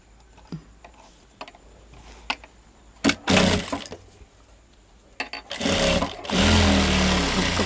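A sewing machine stitches a blouse hem in short bursts, with scattered clicks and handling at first, then louder sustained runs of needle chatter near the end.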